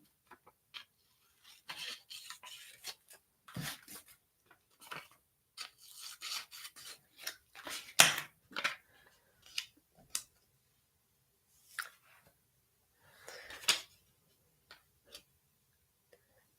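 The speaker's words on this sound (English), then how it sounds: "I'll take my scissors. I'm just going to cut this to the size square that I want." Scissors snipping through a small Post-it note at a desk, a quiet run of separate crisp cuts and rubbing rasps spaced out over time, close and fairly faint, with no talking.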